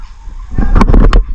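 Turkeys and hens call close by in a short burst of loud honking, clucking notes after a quieter opening.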